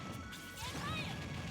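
A forward smash attack lands in Super Smash Bros. Ultimate, a sharp crashing hit with swishy effect tones, fairly quiet and set in a busy, continuous game mix.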